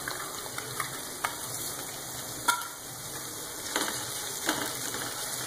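A chili mixture roasts over a low flame, a steady hiss and crackle of frying with occasional scraping strokes of a spoon stirring it in the pan, continuous and close.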